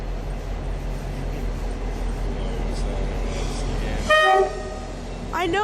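A train horn at a commuter rail station on Route 128 gives a short harmonic toot near the end, over steady station rumble and noise, with a second brief horn-like rising tone right after.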